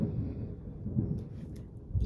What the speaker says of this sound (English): it's thundering that scared me half to death